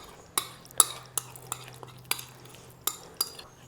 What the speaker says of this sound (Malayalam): ഇനി നമ്മളിത് നന്നായിട്ട് ചിക്കനിലേക്ക് ഒന്ന് യോജിപ്പിച്ച് കൊടുക്കാം